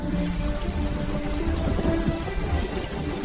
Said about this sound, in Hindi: बाहर बारिश हो रही थी